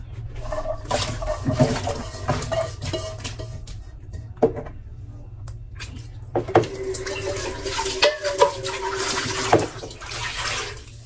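Vegetables from the market rinsed under a running tap in a home kitchen sink, steady water flow with splashing, handling and occasional knocks of produce and dishes, close and fairly loud.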